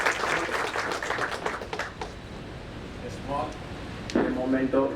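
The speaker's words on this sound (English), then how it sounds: "a big round of applause to the staff today's session." A seminar audience on real estate, GST and RERA gives the staff a round of applause: moderate clapping for about two seconds that fades, then speech-like sounds rise near the end.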